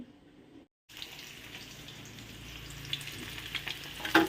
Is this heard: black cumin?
yes